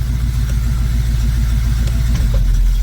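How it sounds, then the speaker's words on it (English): A 1973 split-bumper Chevrolet Camaro idles in gear at about 800 RPM. Its engine gives a loud, steady, close rumble with an even lumpy pulse and no voices. "That's about where you want it to idle in gear, because you don't want it to be dying at stop signs and stop lights."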